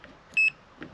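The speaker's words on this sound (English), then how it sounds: "when we put our prongs together, it should beep, it should make that beep" A multimeter set to continuity mode emits a single short, clear electronic beep, lasting about a tenth of a second, against a quiet background.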